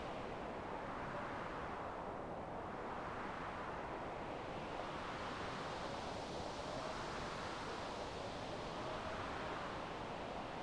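Wind gusts blow in a night-time chores video game, a steady, hushed rushing that swells and fades in slow waves, faint and continuous with no talk.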